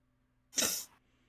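A single sharp, breathy sneeze-like burst stands out in a quiet room during a tabletop role-playing game session, brief and fairly close.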